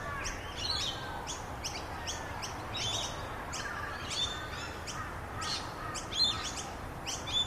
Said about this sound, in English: Lush, open aviary where exotic birds roam freely, fluttering past you like living colors